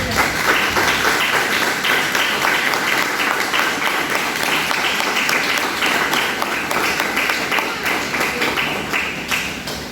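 A church congregation claps together in a dense, steady round of applause filling the whole stretch, loud and continuous without letting up.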